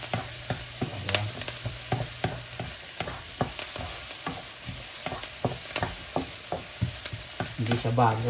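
Bamboo shoots sautéing for adobong labong, with close, steady sizzling under repeated sharp scrapes and clacks of a utensil stirring the pan, alone with no talk.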